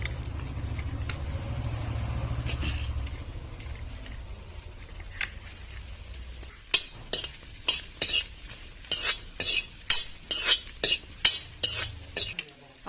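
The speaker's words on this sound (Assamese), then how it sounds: "পিঁয়াজখিনি বোলে তেল নিদিয়াকে ভাজি ল'বি সেইকাৰণে ভাজি লওঁচোন" Onions dry-roast in a hot kadai without oil, first a low hiss, then a spoon scraping and stirring in a run of sharp rhythmic clinks against the pan, close and fairly loud.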